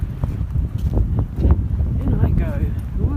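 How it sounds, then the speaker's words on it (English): Cold, gusty wind buffets the microphone on a Lake District fell, roaring loud and close while a person speaks briefly over it. "that wind is cold"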